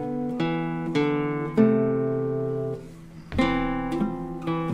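A classical guitar plays a passage from an Aguado Moderato, with clear plucked chords and ringing notes, close and moderately loud, a short pause midway before further chords, and no voice.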